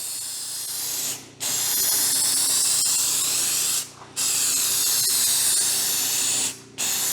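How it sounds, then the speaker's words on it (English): A spray gun lays a wet coat of paint in three long, steady hissing passes, loud and close, each broken by a brief pause between strokes. "Okay, now let's do a wet coat. And we want good overlap."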